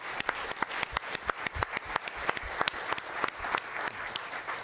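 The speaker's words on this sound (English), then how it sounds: "Yes, a round of applause." A room at a school board meeting breaks into applause, a crisp patter of many hands clapping steadily for several seconds, close and lively, with no talk over it.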